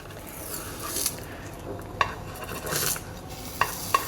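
A blueberry oat pancake sizzling in a pan as it is flipped, a moderate steady fry with a few sharp spatula scrapes and clicks against the pan.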